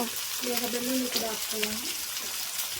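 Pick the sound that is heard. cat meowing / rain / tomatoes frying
tomatoes frying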